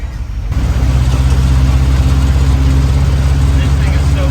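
1979 Chevrolet P30 van with a Magnaflow muffler idling in a steady deep low rumble, close and loud, starting after a quiet half-second.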